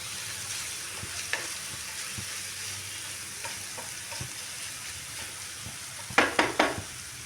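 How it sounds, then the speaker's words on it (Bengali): Mushrooms fry in a pan until reddish for a mushroom soup, giving a steady soft sizzle with occasional stirring scrapes, then a short burst of louder utensil clanks against the pan near the end. "একটু লাল লাল করে ভেজে নেব এটা"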